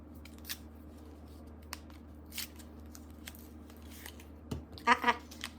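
A lipstick package is torn open by hand in a quiet room, with a few soft crinkles, then a short, sharp ripping burst near the end, close to the microphone.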